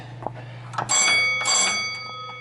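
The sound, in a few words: bell on a restored 1924 Mancha Mule electric mine locomotive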